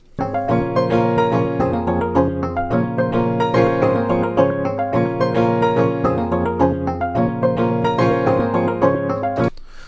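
Layered piano chords play a steady repeating rhythm, an electric piano tone blended with a washed, effected piano, loud and continuous with no voices.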